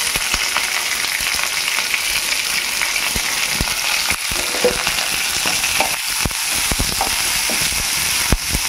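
Curry leaves crackle and sizzle in hot oil in a pan while making idli upma, a dense, loud, continuous hiss with sharp popping bursts and no talking.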